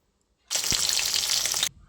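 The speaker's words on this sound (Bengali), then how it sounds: "এখানে মাছ ভাজা হচ্ছে বাইরে" Katla fish frying outdoors, giving a sudden loud, close burst of crackling sizzle that holds steady for about a second before cutting off sharply.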